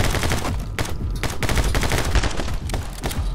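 Gunfire in My Friend Pedro: a steady stream of loud, close shots in quick irregular bursts, layered over busy in-game action with no pauses.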